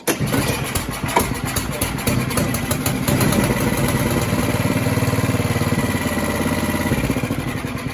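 An Ariens 11528 snow thrower engine is pull-started, its rapid chugging turnover and rattling loud and close throughout without catching into a steady run.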